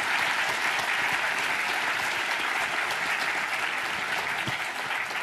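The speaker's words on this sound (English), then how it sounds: "Let's give her another big round of applause" A conference audience at a Cisco women's development day keynote applauds loudly, with dense, sustained clapping that fills the hall for several seconds without a break.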